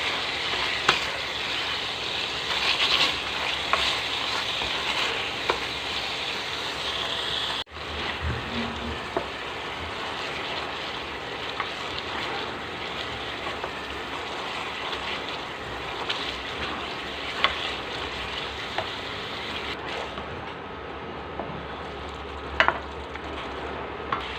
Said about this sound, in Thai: เอาพริกแกงมัสมั่นลงไปผัดค่ะ